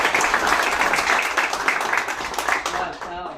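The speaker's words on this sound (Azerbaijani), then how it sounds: "İsmail ürəkdən alqışlayaq" A crowd at a pigeon race award ceremony applauds a winner, dense clapping throughout that thins toward the end, with voices mixed in.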